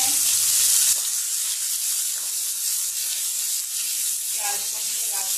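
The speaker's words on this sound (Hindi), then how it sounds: "प्याज को हम लगाते हुए भूनेंगे।" Thinly sliced onions frying in hot oil for a chutney, a loud steady hiss and sizzle close by that starts brighter and settles into a constant crackle, with no voices.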